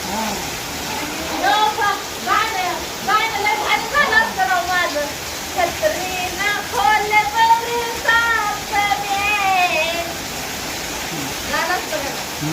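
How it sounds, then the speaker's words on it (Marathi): Heavy monsoon rain pours down steadily over a village as a dense, continuous roar, while voices talk over it throughout. "आपल्याकडचा असा पाऊस चालला आहे भरपूर पाऊस चालला आहे"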